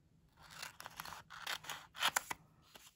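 Scissors cut out a small paper figure of a girl, with a quick run of crisp, close snips and paper rustles in an uneven rhythm over a few seconds, fairly quiet and with no talking.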